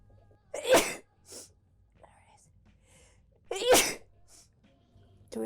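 A person who is sick with a cold sneezes twice, loud and close, a few seconds apart, with soft breathy sounds and faint murmurs between the bursts.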